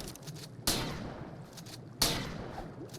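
Two loud, close shotgun blasts in the ARK game, aimed at a megaraptor on the Valguero map, each one a sharp crack with a decaying tail, spaced about a second and a half apart.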